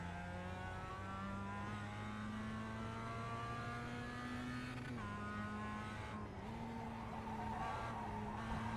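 Mazda MX5 engine held in second gear around the Zandvoort circuit, a steady loud in-car drone with harmonic pitch rising gradually, dipping briefly at a gear or throttle change near the midpoint, then climbing again, with faint tyre noise.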